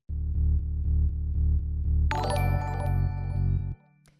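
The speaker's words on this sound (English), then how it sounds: "After that, we have the bass, which sounds like this." A synth bass pulses in steady eighth notes, warm and buzzy, then bright chords and tinkling sounds join before the bass cuts off near the end.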